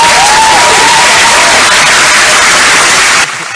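Loud, dense soundboard applause effect from a podcast, a steady wash of many clapping hands lasting about three seconds before abruptly dropping away.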